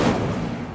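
A short, loud whooshing burst of flame from an Incendio fire spell in Hogwarts Legacy, a single blast that fades quickly.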